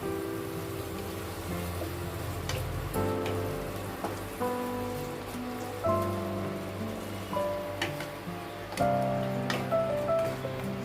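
Fried mushrooms and masala with cashew or poppy seed paste sizzle in a pan, a steady crackling patter with occasional sharper spits, moderately close, with a faint tonal hum underneath.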